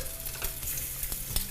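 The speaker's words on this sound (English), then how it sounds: "You can hear it sizzling." Food sizzles steadily in a hot pan, with a few soft stirring scrapes and clicks over the crackle.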